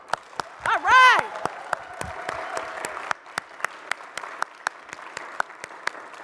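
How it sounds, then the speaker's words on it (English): At a signing ceremony for an automated transit network agreement, a small audience claps for the event's collaborators and participants. Sparse, evenly spaced claps ring out in a steady rhythm, with a brief vocal shout near the start. "we're just going to give one round of applause, and it's for everyone who was a collaborator and a participant in this great event"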